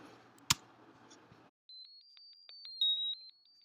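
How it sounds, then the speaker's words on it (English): High-pitched electronic tones from an Arduino-built theremin, shifted up several octaves, arrive as a run of short beeps and held notes after a sharp click and a burst of noise, clear and alone. "Makes another sound that also it corresponds to sound produced by the Arduino, but it's been shifted up by several octaves"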